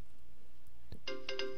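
Segment jingle for FeedWatch on the Room 3026 Live show, a bright electronic tone that starts abruptly after a quiet pause and a single thump, pulsing in short bursts near the end.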